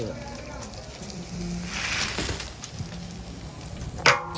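Fish frying in hot oil, crackling and sizzling steadily as a broad hiss with scattered pops, a sharper clatter near the end; a person speaks at moments over it.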